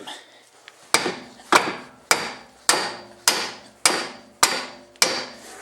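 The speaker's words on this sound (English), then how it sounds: "And now the fun part, sledgehammer time." Sledgehammer striking a seized camber bolt on a BMW E36 suspension, eight loud, sharp metallic blows at a steady rhythm about half a second apart, each ringing briefly and decaying.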